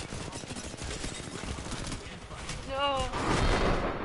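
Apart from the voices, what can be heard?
gunfire in a video game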